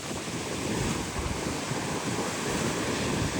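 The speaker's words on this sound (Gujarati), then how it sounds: "થોડા દાદા પવન છે ને થોડા દાદા મોજા છે" Sea waves churn along a shore under gusting wind, a continuous broad roar with buffeting wind noise on the microphone, close and fairly steady, no voices.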